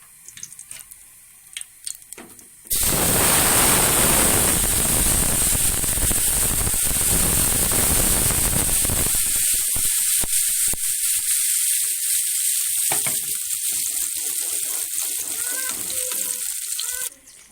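Spice paste frying hard with cumin seeds in a very hot pan, a loud continuous sizzle that starts abruptly and keeps crackling steadily, easing slightly as it settles, with no talk over it.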